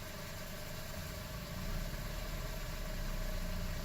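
A 2009 Toyota Corolla engine idles steadily up close, its low hum rising and falling slightly as the RPM wavers, with no voices over it.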